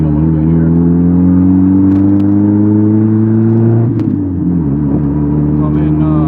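A Jeep Wrangler Sport accelerates, its engine droning up in pitch before a brief dip at a gear change, loud and steady from inside the cabin.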